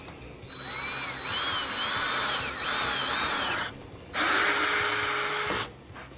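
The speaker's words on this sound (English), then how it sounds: "we're gonna drill a hole through this" A power drill bores a hole through a wooden leg of a homemade quail cage. The motor whines in several bursts with short pauses between them, and the pitch rises and dips as the bit loads up, ending in one louder final run.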